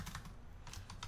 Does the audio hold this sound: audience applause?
no